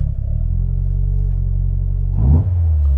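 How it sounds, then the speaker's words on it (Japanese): A carbureted four-throttle Toyota 86 (SARD 86 GT1) idles with a steady low rumble, then a single sharp blip of the throttle flares the engine up briefly and it settles back to idle, close and loud with no talk. "アクセルポンと踏んだ瞬間にんって一瞬遅れてきて、ブブブンって上がるのが、これね、キャブレターや、キャブレター、キャブ車や"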